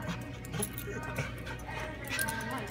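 A dog whimpering and panting inside a busy pet store while picking out toys, amid steady store hum and chatter, with people talking nearby.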